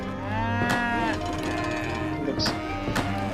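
Several cows working on a hacienda in Age of Empires 3 moo in long, drawn-out calls, close and loud, one after another over a low background.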